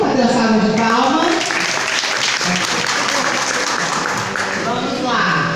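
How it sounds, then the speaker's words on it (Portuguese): An audience at a conference for older people in Cajazeiras do Piauí, Brazil, gives a sustained round of clapping, loud and dense, with voices and cheering mixed in and a speaker's voice rising over it near the end. "Vamos fazer uma salva de palmas"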